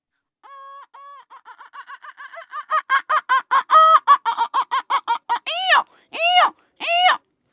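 A human voice imitates a village hen clucking before laying an egg: a run of short rhythmic clucks that quickens and rises, ending in a few longer, louder squawking calls.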